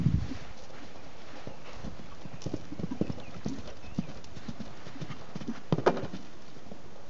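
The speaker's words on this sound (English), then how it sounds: "And then canter around. Keep cantering." Horse hooves clip-clop in a steady cantering rhythm on an outdoor riding lesson ground, moderately near, with faint scattered hoofbeats and a brief louder burst of strikes near the end.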